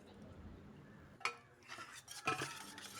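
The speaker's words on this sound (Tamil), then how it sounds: "இப்போ நான் வந்து இந்த சாக்லேட் இந்த முட்டை கலவையோட சேர்த்து இதை நல்லா கலந்துட்டுக்கோங்க" Chocolate being stirred into an egg mixture for cake batter: a spoon clinks a few times against the side of a bowl, with soft scraping between the strikes, close and fairly quiet.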